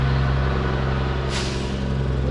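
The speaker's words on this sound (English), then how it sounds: "Lots of heavy truck noises." A heavy truck rolls through a construction area beside an RV resort in Elberta, Alabama, giving a loud, steady low engine rumble close by, with a brief hiss partway through.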